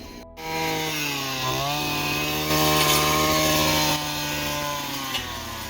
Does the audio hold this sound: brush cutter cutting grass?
yes